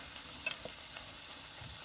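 Shrimp chops frying in hot oil, a steady close sizzle with a brief louder crackle early on, no talking.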